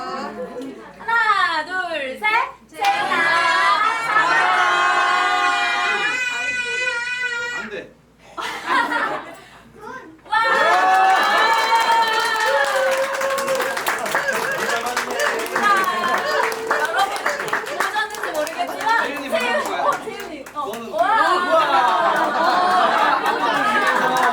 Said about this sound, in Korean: 잡고 나서 환호성을 해주시면 됩니다